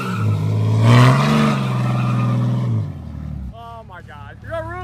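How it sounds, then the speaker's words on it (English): Tire burnout from a 4G Cummins diesel truck, a loud roaring engine and screeching spinning tires for about three seconds, then cutting off as voices talk and laugh. "All right, girlfriend's first burnout here."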